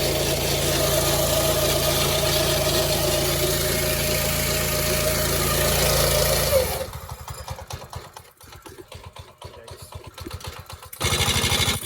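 A $150 Predator clone small engine fitted to a go kart idles steadily and loud at first, then the tone drops and turns choppy and uneven before the idle settles back in.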